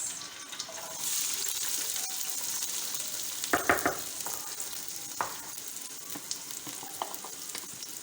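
Onions frying in oil in a pan for a potato and pea bharta, giving a steady close sizzle through the whole clip with a few sharp scraping stirs partway through and no talk.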